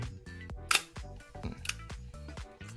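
A mechanical film camera shutter, freshly lubricated with its curtain adjusted, fires in a string of quiet, crisp clicks with two sharper, louder releases standing out among softer ticks.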